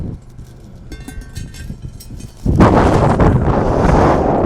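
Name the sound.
strong wind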